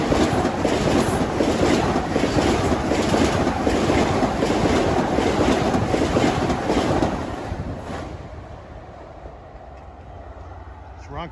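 A Long Island Rail Road train from Ronkonkoma rushes past Nassau Tower in Mineola during the morning rush, a loud steady rumble and roar that fades away after several seconds.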